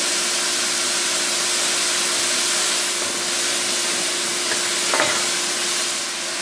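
Soy sauce substitute and rice wine vinegar sizzle steadily in a hot pan with ginger while chicken and bok choy cook, a loud continuous hiss with a brief clink near the end and no talking.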